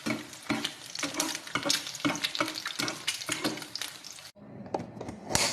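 Eggs frying in a pan are stirred with quick, rhythmic scraping strokes over a steady close sizzle; the strokes stop briefly near the end, then resume.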